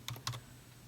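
A few quick keystrokes on a computer keyboard, two or three close, soft clicks in under a second against a quiet room hum.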